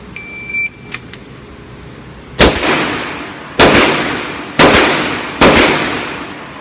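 Four sharp, loud Sig Sauer .357 pistol shots ring out at a steady pace, each with a decaying echo. Quieter clicks and handling noises come before them.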